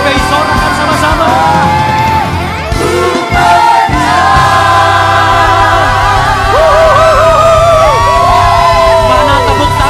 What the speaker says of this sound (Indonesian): GBI sorakan sama-sama.